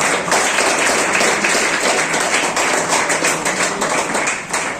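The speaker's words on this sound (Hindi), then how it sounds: "ताली बजती रहनी चाहिए।" A crowd of children keeps clapping at a Teacher's Day school event, a steady, dense patter of applause sustained throughout and tapering slightly near the end.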